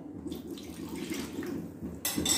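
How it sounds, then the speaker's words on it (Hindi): Water is poured into a bowl of mixed gram-flour batter while making mango kadhi in a home kitchen, giving a faint, soft trickle that ends in a brighter splash. "अभी हमने जिस प्याले में बैटर मिक्स करके रखा था उसमें थोड़ा पानी डाल के"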